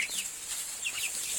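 Young chicks scuffle in a brief squabble, giving high, thin peeping and clucking calls in quick succession, faint and close, over a steady airy background hiss.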